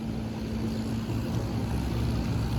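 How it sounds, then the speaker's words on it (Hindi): A long-tail boat engine running on the water near Phi Phi's Long Beach, a steady low droning hum with a constant tonal pitch, moderately close and continuous, mixed with wind and water wash. "ये इनको लॉन्ग टेल बोट कहते हैं"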